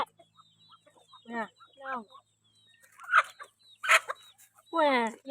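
Several farm chickens cluck in short bursts, with a few louder squawking calls toward the end, fairly close and otherwise quiet in between.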